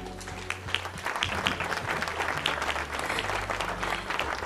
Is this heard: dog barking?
no